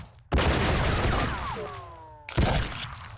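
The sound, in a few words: gunfire from a video game, True Crime: Streets of LA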